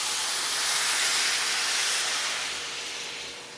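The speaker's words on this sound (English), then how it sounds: "now the rice is a little fried. I'm gonna add the sauce" Sauce poured into frying rice in a pan bursts into loud hissing sizzle that swells, holds steady and then slowly fades, close by and without talk.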